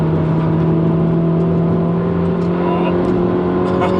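A 2020 Mini JCW DT Edition runs at around 90 mph on a track, its engine giving a loud, close, steady drone with strong humming tones that hold level throughout.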